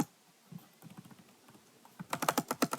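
Fingers tap on a computer keyboard, first light scattered keystrokes, then a faster, louder burst of steady typing close by.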